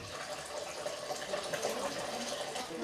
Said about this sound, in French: L'eau sort du robinet